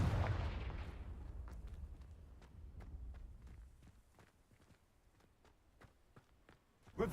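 A Confringo blasting spell fires in the video game Hogwarts Legacy: one sharp burst opens and decays, followed by a run of light, evenly spaced clicks and footstep-like taps at moderate distance, with no talk.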